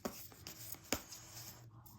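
Thick tarot cards being drawn from a deck, heard as a few quiet, sharp card slaps and rubs spaced apart at close range in a hushed room, with a faint low hum underneath.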